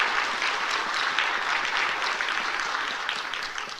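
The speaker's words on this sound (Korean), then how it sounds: "여러분 격려의 박수 한번 부탁합니다" A church congregation claps together in sustained, dense applause that stays loud and even for several seconds, with no voices rising above it.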